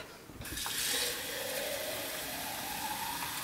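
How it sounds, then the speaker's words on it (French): Water poured in from a tap, a steady close rushing splash that begins abruptly and continues evenly, no talking. "On va rajouter un petit peu d'eau"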